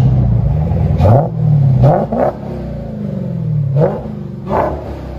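A 2018 Dodge Demon with an 840 hp supercharged 6.2L HEMI V8 and straight-piped dual exhaust revs hard several times from a rumbling idle, each blip sharp, loud and close.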